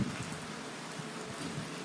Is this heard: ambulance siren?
no